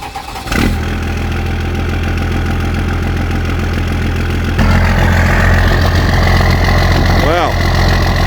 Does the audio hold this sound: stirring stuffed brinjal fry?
no